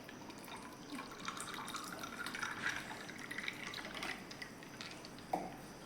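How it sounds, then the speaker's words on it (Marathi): Cold water poured from a clay pot into a glass of raw mango drink mix, a steady close trickle and splash running throughout with a small clink near the end. "थंड असं बघा माठातलं पाणी ओतून घ्यायचं."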